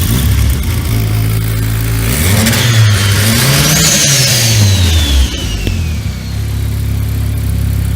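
The turbocharged 600-horsepower Toyota Camry concept car engine is loud and close, idling and then revving up and down in a long rising-and-falling sweep before settling back to a steady idle.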